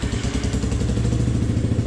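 A vehicle engine running with its exhaust baffle removed gives a loud, close, raw rhythmic putter at a steady low idle, with no talking.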